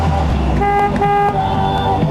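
Stuck horn on a 1957 VW Beetle convertible, sounding as a steady, continuous honk that drones on without a break, loud and close, mixed with some background rumble.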